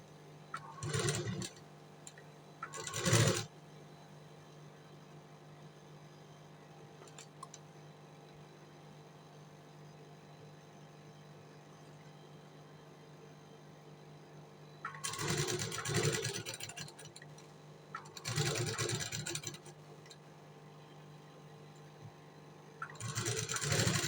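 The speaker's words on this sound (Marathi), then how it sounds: "आता आपण ह्याच्यावरती शिलाई मारून घेऊया" A sewing machine stitches canvas for a blouse neck in short bursts of whirring run, separated by long quiet stretches with a faint steady hum.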